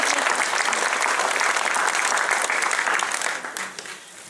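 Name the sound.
audience applause at concert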